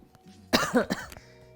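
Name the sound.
coughing from poured seasoning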